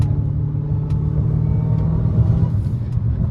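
Dodge Challenger Hellcat Redeye cruising along a mountain canyon road: a steady, low, rumbling engine drone heard from inside the car, fairly loud and even, with no revving bursts.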